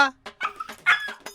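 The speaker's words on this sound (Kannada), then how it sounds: "ನಿನ್ನ ನಾಯಿ ದಿನ ಪೂರ್ತಿ ಬೊಗಳ್ತಾನೆ ಇರ್ತದೆ" A dog's short yips and whimpering barks come in a few quick bursts, close by, with some voice-like tonal sounds mixed in.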